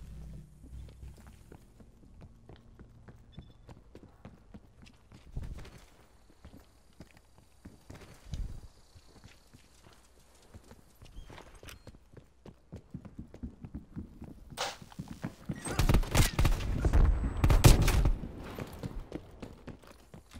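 Footsteps in a shooter video game, a steady run of soft thuds growing louder and busier toward the end.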